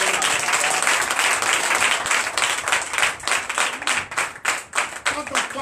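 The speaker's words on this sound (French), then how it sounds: "Donnez encore plus d'acclamation." A church congregation applauds during a Sunday service in Comè, Benin, with steady dense clapping that turns into rhythmic, evenly spaced group claps toward the end.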